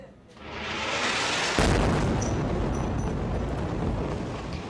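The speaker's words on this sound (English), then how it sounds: "Israeli airstrikes targeted the Al-Sharouk building in central Gaza City" Israeli airstrike explosion in central Gaza City, a sudden heavy blast that swells into a long, loud, roaring rumble and lingers for several seconds with no talk.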